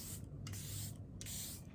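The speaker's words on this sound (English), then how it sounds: "This is the Charlotte Tilbury Airbrush Flawless Setting Spray." Charlotte Tilbury Airbrush Flawless Setting Spray mists out in several quick, soft hissing bursts from close range, with brief pauses between pumps.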